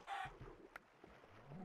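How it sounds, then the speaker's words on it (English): Minecraft chickens on a passive mob farm give short clucks and a brief squawk over faint game ambience, with a low rumble underneath. "And I've got the chickens there laying eggs."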